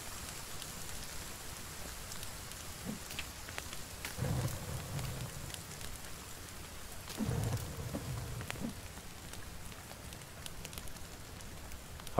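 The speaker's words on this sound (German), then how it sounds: "Regen? Kann das echt sein?" Steady rain falls in the survival video game The Forest, with broad hiss throughout and a couple of low rumbling swells like distant thunder.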